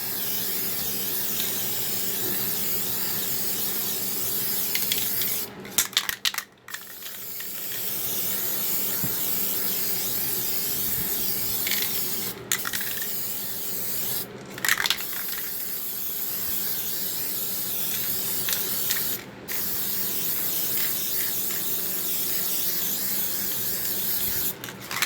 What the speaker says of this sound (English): Okay, gotta spray paint that black first.